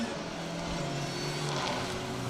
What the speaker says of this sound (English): James Toynton and Evie Ewing blast past those, scream past those with a straight cut gearbox in that Mini